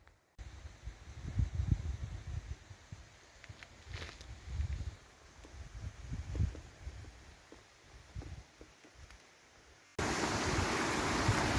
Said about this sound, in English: It's like an underground stream here. It's popping over.